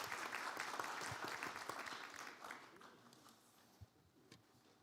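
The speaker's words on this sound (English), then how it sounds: "give a big round of applause to our panelists and to Norzat" Applause from a conference audience for the panelists of a plenary dialogue session, loud and sustained at first, then thinning into scattered claps as it fades.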